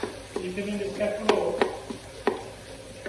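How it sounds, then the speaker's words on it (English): Chopped onion, ginger and four cloves of garlic sauté in a pan, with a soft sizzle under a few sharp, close clacks and scrapes from a utensil stirring, and no talk. "I'm just going to saute those for a few minutes just to get them softened."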